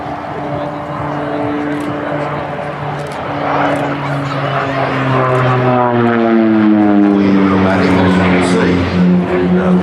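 An OV-10B Bronco twin-turboprop flies a display at an air festival, its propeller drone loud and close with pitch sliding downward as it passes overhead and swells in volume, a commentator talking beneath.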